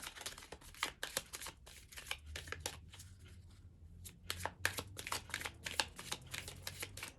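Rapid, crisp riffling and slapping of a deck of tarot cards being shuffled, in repeated bursts close to the listener.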